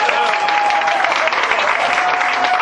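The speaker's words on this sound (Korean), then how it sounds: "큰 박수 주십시오." Audience applause at a celebration event, a dense, steady wash of many hands clapping that holds at full strength throughout with no voices standing out.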